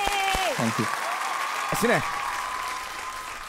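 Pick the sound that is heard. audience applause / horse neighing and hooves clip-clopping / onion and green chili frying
audience applause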